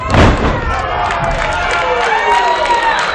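A wrestler is slammed onto the mat at a live wrestling show, one heavy thud near the start followed by crowd noise and cheering rising in the arena.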